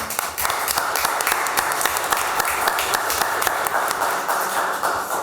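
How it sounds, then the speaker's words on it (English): Applause fills a Hammond Board of Works meeting room for a retiring fire chief, a steady run of crisp individual claps from a modest group, close and unbroken for about five seconds. "If we give him a round of applause, please."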